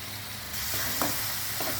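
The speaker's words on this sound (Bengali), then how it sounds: "মশলাটা ভেজে নিচ্ছি" Cumin and turmeric sizzle and crackle steadily in hot oil with ginger-garlic-tomato paste, with a brief scrape of stirring partway through.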